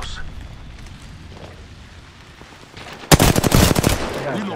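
Sudden loud burst of rapid automatic gunfire in a tactical shooter video game, with dense repeated shots after a quieter stretch of background game ambience.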